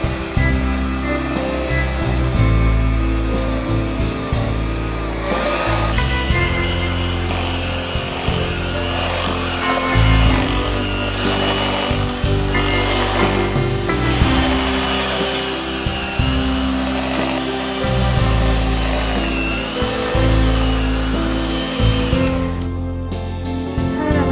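An electric hand mixer runs at medium speed, beating cupcake batter in a bowl with a steady, loud whirring hum that carries on throughout and cuts off at the very end, with no talking.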